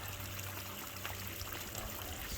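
Water runs steadily through a Gold Cube gold concentrator, a close, continuous trickling and pouring wash with no break for the whole stretch.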